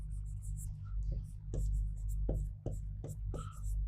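Chalk or marker writing on a board in a Hindi-language history lesson, a run of short scratchy strokes in quick bursts over a constant low hum, close and faint.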